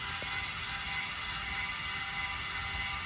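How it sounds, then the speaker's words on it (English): Electric stabilizer jack motor driving an open gear to lower the feet on a 2025 Forest River Wildwood 28VIEW travel trailer, a steady faint mechanical whir with fine ratcheting texture, continuous and unchanging. "you're going to hear the motor wind up a little bit"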